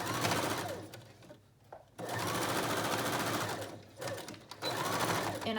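A sewing machine stitches fabric for a bonnet mask in quick close bursts of rapid mechanical rattling, stopping briefly twice between runs.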